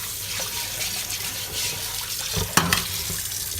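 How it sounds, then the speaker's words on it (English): Water runs steadily from a sink tap while a cast iron pan is scrubbed, a continuous close splashing wash with a couple of brief knocks near the end. "So I'm going to shut the water off."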